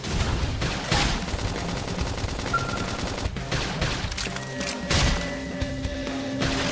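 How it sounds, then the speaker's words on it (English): Combat in the video game Xenoblade Chronicles X as a flame grenade goes off, with dense rapid bursts of gunfire and crashing impacts, loud and continuous, no voices. "Flame grenade!"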